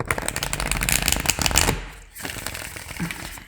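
Tarot cards are shuffled in rapid, crisp riffling bursts close up, pausing briefly before a softer second round of flicking.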